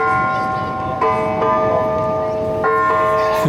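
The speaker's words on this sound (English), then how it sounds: "You can see the full story of the time and tide bells in our July programme." A time and tide bell rings with several resonant strikes, each clang leaving a sustained, humming tone that overlaps the next, loud and close.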